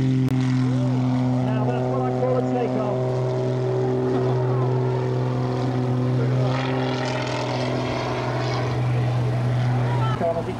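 A Shvetsov radial-engined propeller aircraft takes off at the 2007 Little Gransden airshow, its steady droning engine note holding loud and close throughout with a strong hum and overtones while voices talk over it.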